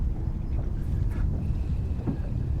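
Steady gusty wind buffets the microphone on open water from a fishing boat during a cold front, a constant low rumble with faint splashing, no talking.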